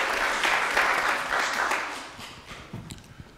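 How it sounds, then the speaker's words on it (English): A church congregation applauds in a brief, lively burst of clapping that swells quickly and then tapers off into a few scattered claps. "Big round of applause for Dudley."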